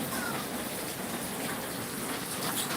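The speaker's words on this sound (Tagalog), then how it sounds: "Sobrang lakas ng ulan." Heavy rain pours down steadily without a break, a dense, even hiss of drops drumming on surfaces that stays loud and close throughout.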